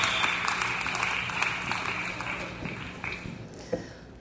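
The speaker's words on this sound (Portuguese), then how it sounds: "Palmas para esse jovem promissor." Audience applause at a live music show, a steady broadband patter of clapping at moderate volume that thins out toward the end, with faint background murmur underneath.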